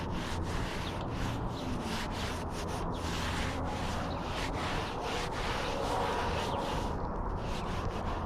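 A sponge rubs and drags across wet stucco on a parapet wall, giving a steady close-up abrasive scrubbing with repeated strokes throughout.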